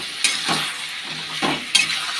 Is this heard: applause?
no